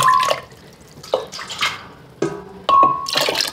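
Water pours from a one-cup measuring cup into a blender holding scraps for handmade paper. Four short, close splashing pours are separated by brief pauses, and the last one is the loudest and fullest.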